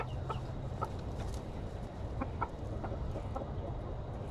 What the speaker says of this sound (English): What's up, baby chickens?